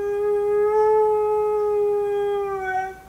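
A dog lets out one long, steady, tonal howl that holds for about three seconds before trailing off, clear and close with no other sound.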